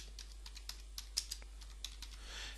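Typing on a computer keyboard, entering text into CAD surveying software; a run of light, irregular key clicks, quiet and close, with a few sharper taps standing out.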